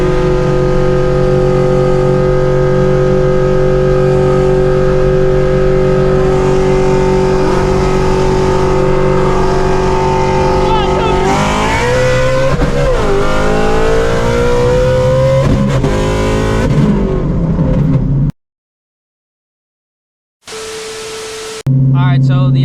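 A supercharged Shelby GT500 with a 3.8 Whipple roars loudly at full throttle during a race, holding a steady high drone before rising and shifting, then cutting off abruptly.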